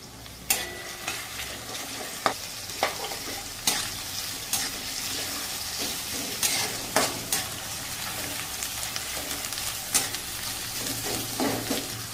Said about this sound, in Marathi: हे 125 ग्रॅम कांदे असतील आपले. त्याला मस्त तळून घ्यायचं.